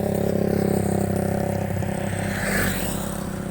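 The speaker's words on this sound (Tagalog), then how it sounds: "Dito tayo ngayon sa tabi ng highway" Traffic passing along a highway, a steady broadband roar of engines and tyres with a swell around midway as a vehicle goes by fairly close, no voices.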